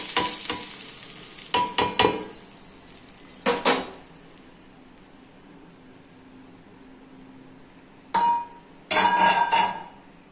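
Mustard seeds and spices crackle and sizzle in hot oil for a green chutney tempering, in short loud bursts separated by quieter stretches, with a metal spoon clinking against the pan.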